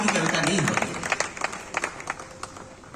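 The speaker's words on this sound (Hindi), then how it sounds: "एक बार तालियां बजा करके दबा दीजिए कहे" Audience applause at a Holi-special poetry gathering (shayari mehfil) in Prayagraj, a dense burst of clapping at the start that thins into scattered claps, with a voice heard over it.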